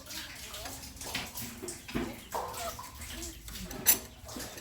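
Water being fetched and poured into a container outdoors in a rural province, with irregular splashing and sloshing pours of varying strength, moderately close, and faint birds in the background.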